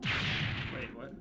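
The grand grenade weapon firing in Megaman Legends: one short, loud, booming burst that trails off quickly.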